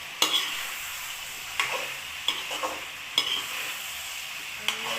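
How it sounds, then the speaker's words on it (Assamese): Chicken frying with cumin, ginger-garlic paste and meat masala for a curry, a steady soft sizzle broken every second or so by sharp scraping knocks of a spoon stirring in the pan. "এতিয়া এইখিনি ভালদৰে ভাজি ল'ম"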